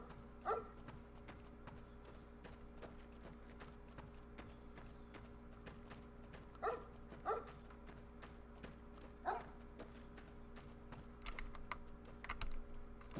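A dog in the Fallout: New Vegas game barks a handful of times in short, spaced bursts, mixed with a steady run of keyboard typing clicks.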